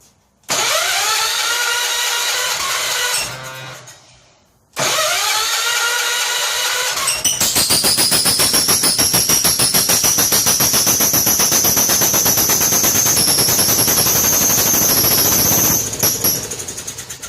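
A 1970 John Deere 140 H3 barn-find tractor engine cranks and fires on a cold start, cuts out briefly, then settles into a loud, rapid, rattling idle with a blown gasket, running close up with no talk.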